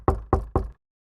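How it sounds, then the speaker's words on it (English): Three firm knocks on a wooden door in quick, even succession, close and loud, followed by silence. "When he knocked"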